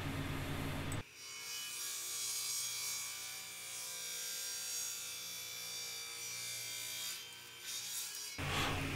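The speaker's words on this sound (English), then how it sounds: "I am cutting the end of the back foot first, and then I'll cut the edges of the main body to the same degree angle." A hand saw cuts a 15-degree angle through the wood of a tablet stand's back foot, a steady rasping stroke that runs for about seven seconds, close and continuous, with no talk.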